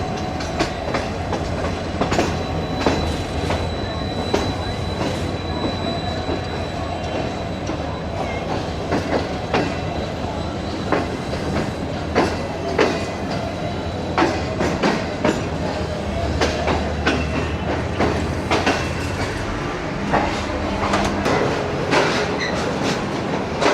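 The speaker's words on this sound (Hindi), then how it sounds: "दोस्तों 4:05 पर ट्रेन हमारी पहुंच चुकी है रोडी जंक्शन पर।" The Pak Business Express passenger train rolls into a junction with steady clickety-clack of wheels over rail joints, a continuous low rumble and a repeating rhythm of louder clacks throughout.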